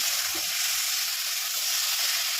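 Masala spices fry in a pan for a fish curry, a dense, even sizzle that hisses steadily throughout without pause.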